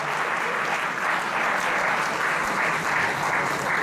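Steady, dense audience applause for participants called forward at a French challenge event, continuous and even throughout with no pauses.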